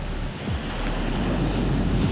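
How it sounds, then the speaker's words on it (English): Huge ocean waves from roughly 12-foot swells in rough, hurricane-stirred water at Singing Beach in Manchester-by-the-Sea: a loud, continuous roar of surf with wind buffeting the microphone, swelling slightly as a big wave breaks. "This wave is enormous."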